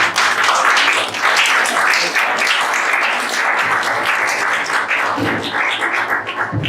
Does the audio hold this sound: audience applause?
yes